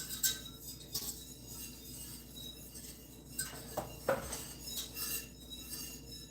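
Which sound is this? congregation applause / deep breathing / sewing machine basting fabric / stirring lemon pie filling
stirring lemon pie filling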